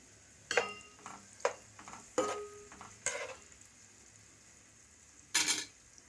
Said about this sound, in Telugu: ఇందులోనే కొద్దిగా అల్లం పేస్ట్ వేసుకుంటున్నాం